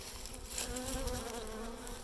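Honey bees buzz at an open hive during re-queening, a close, steady drone with wavering tonal hum lines that persists for the whole short moment.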